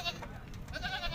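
Goat bleating at a crowded livestock market ahead of Eid, a short wavering bleat over a busy background hum of the mandi.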